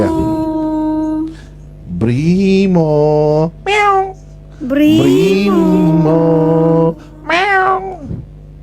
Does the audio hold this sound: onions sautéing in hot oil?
no